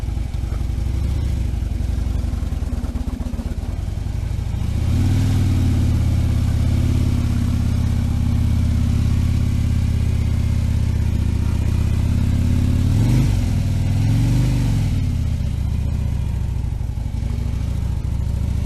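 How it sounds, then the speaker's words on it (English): A motorcycle engine, not yet fully warmed up, runs steadily and close by, with a couple of throttle revs rising and falling partway through, loud and continuous with no talking. "I didn't really get the bike warmed up very much, so I noticed this bike needs to be warmed up a bit more"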